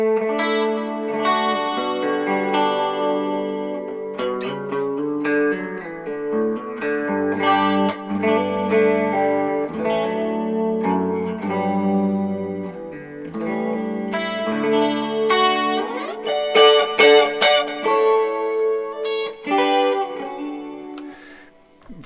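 Clean guitar patch from a Boss GX-10 multi-effects unit with a modulation effect rings out alone as shimmering, chorus-tinged picked notes and chords, moderately loud with swells and a busier, brighter passage near the end.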